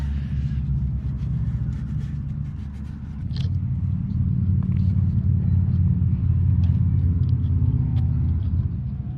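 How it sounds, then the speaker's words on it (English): Loud exhaust pipes rumble deeply as vehicles pass close by, the roar swelling louder midway and staying heavy, with faint talk in the background. "All these loud pipes going by."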